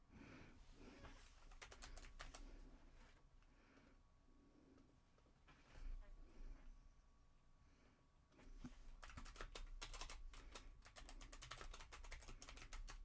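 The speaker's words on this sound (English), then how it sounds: "All right, I'm going to type this up." Typing on a computer keyboard, quick bursts of close key clicks separated by short pauses, quiet overall with a denser run of keystrokes near the end, no speech.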